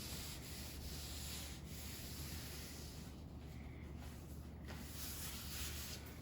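An old t-shirt rubs oil onto a wooden butcher block countertop, giving a soft, continuous close-up scrubbing hiss in steady back-and-forth strokes, with no talking.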